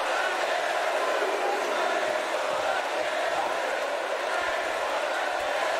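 A wrestling arena crowd in WWE 2K18 roars in a steady, distant wash of cheering and murmur that holds constant throughout.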